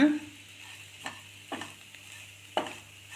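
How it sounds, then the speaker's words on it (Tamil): Bread chilli being gently turned in a pan over a low flame: a faint background sizzle broken by three or four soft, brief scraping stirs spaced about a second apart. "நல்லா ஜென்டிலாக கிளறி விடுங்க."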